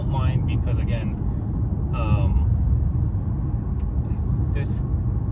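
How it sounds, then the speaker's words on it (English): Low, steady road and tire roar inside a moving 2020 Mercedes-Benz E350 E-Class on Pirelli tires, a constant rumble beneath someone talking intermittently. "It's more of a tire noise, I guess you can say"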